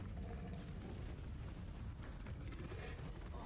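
Incendio fire spell bursts in Hogwarts Legacy, a dense, continuous rumbling roar of flame and impact that stays loud and heavy throughout the few seconds with no speech.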